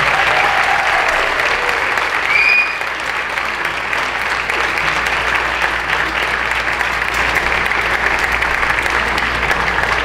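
Sustained audience applause fills the room at the 2023 Michael S. Curtin Award ceremony, a dense, steady wash of many hands clapping for the full stretch, loud and close, with a brief faint whistle near the start.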